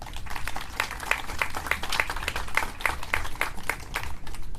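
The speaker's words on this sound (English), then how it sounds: "I think that deserves another round of applause there" Steady applause from a crowd at a courthouse California Native American Day celebration, a dense wash of clapping with some sharper individual claps standing out, continuing throughout.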